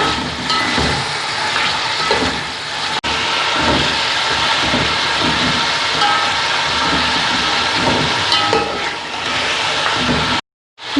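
Mutton pieces frying in a pan for kunna paya, a loud, dense, continuous sizzle close by with no talk, cutting off briefly near the end.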